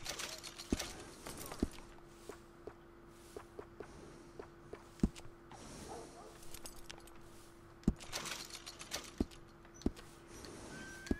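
Horse hooves clip-clopping in the video game Red Dead Redemption 2, with sparse, irregular hoof strikes over a steady low game hum and soft ambient noise.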